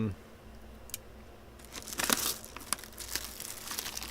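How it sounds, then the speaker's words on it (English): A box of scissors being opened at a workbench, with packaging crinkling and tearing in bursts that grow busier midway, fairly close and moderately loud. "I am just going to open up the next box of scissors here"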